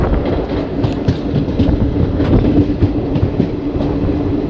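The Malda–Howrah Intercity Express rolls slowly into Katwa Junction in the morning, a loud, steady rumble with rhythmic clatter of wheels over rail joints throughout.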